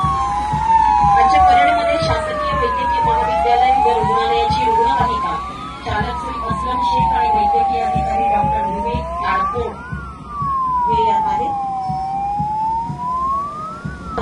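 A police riot control vehicle in a Republic Day parade in Sindhudurg sounds its siren. The loud wail sweeps up and down repeatedly for the whole stretch, with a voice commenting over it.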